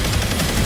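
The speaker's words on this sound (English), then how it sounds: "Use the large gun!" A large gun firing in the Destiny 2 Guardian Games event, a loud burst of rapid gunfire blasts packed into well under a second.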